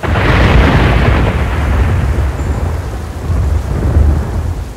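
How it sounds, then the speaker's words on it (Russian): Heavy rolling thunder during a thunderstorm over Lake Maracaibo, a loud sustained rumble that swells, eases and swells again with no voices. "На грозовые разряды уже давно никто не обращает внимания."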